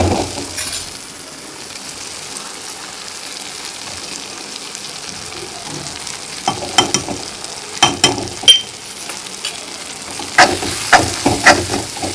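A spiced vegetable bhaji fries crisp in a pan and is stirred, giving a steady close sizzle that breaks into louder scraping, crackling bursts as the spoon moves through it, with no talk.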